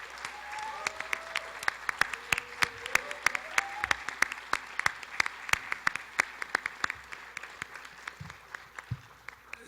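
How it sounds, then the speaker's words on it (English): A modest audience at an Emmy awards ceremony claps for students, sparse distinct hand claps standing out over lighter background clapping, steady for several seconds. "Could we give them a round of applause?"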